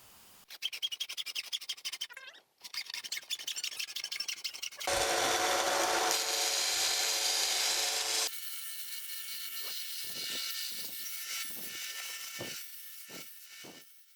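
A hand saw cuts through PVC pipe along a marked line for a birdhouse build, with rapid rasping strokes and then a long continuous grinding stretch, loud and close, ending in a few scattered scrapes.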